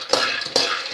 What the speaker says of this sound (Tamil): இப்போ இதே நம்ம வறுத்துக்கலாம். இதையும் ஸ்லோ குக் பண்ணிக்கோங்க